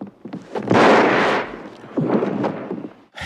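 A gunshot in the 1982 film The Thing: a loud, close burst with a harsh noisy tail, followed by a second rumbling blast before it cuts off.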